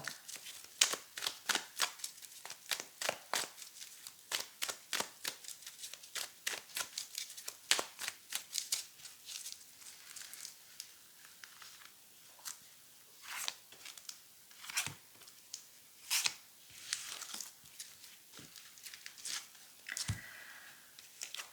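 A deck of tarot cards is handled and shuffled close up, producing dense runs of quick papery riffles and flicks, then sparser taps and slides.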